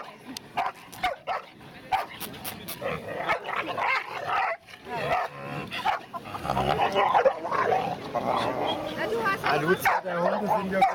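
A dog barks and yips repeatedly close by, short sharp bursts scattered through the whole stretch among people talking and other household noise.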